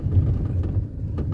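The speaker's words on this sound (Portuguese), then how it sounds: "Aí o carro ainda faz um" A car engine rumbles low and steady while driving along a countryside road. The hum is short, close and muffled, with no voices.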